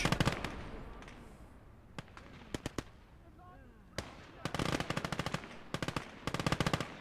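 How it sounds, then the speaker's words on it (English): Machine gun fire in the WWII video game Call to Arms: Gates of Hell: loud staccato bursts of rapid shots, scattered single cracks, then a long rattling stretch of sustained automatic fire, with a voice speaking between bursts. "Three machine guns between them."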